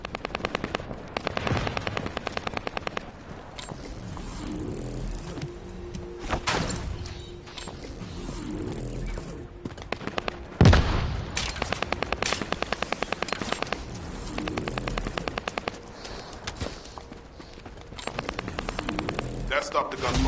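Rapid automatic gunfire from the shooter video game The First Descendant rattles in repeated bursts under a voice and steady background noise, with a sharp louder crack near the middle.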